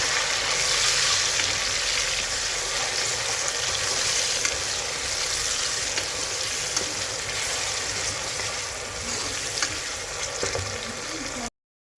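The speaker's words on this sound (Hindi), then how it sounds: "2 मीडियम साइज़ के प्याज टमाटर डाल देंगे और इन्हें भी अच्छे से भून लेंगे" Onions and tomatoes fry in a pan for a homemade lauki gosht, giving a steady, loud, continuous sizzle close by with occasional small crackles and no talk.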